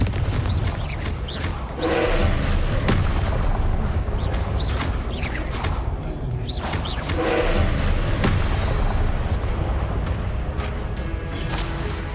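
Confringo spell blasts in Hogwarts Legacy: a few booming bursts rise out of a loud, rumbling game soundscape, spaced several seconds apart.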